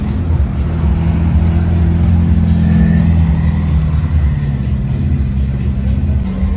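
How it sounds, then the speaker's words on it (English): Supercars such as Ferraris roll past during Monaco Grand Prix carspotting, a steady low engine rumble that holds throughout with some revving, fairly close and loud over street ambience. "You can already see supercars rolling in left, right, and center."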